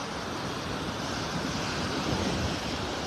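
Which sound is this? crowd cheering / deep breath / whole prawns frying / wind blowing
wind blowing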